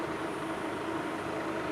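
A camera drone flies over a village with a steady, even buzzing drone of its rotors, continuous and moderately loud, with no talk.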